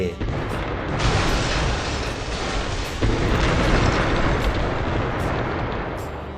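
Explosions from the City Smash city-destruction game form a continuous loud, booming roar, with a fresh surge near the start and another around the middle, no voices over it.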